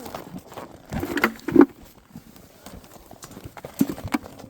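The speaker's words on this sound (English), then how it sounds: "Horses everywhere." Horses walking on a small farm on a cold day, a few clip-clop hoof steps and shuffles, close and moderately loud, with occasional voices around them.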